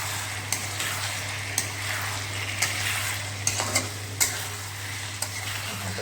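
Meat stir-fried with spices on a low flame, giving a soft continuous sizzle under repeated scrapes and clinks of a spoon against the pan, close and fairly quiet, with a steady low hum behind it.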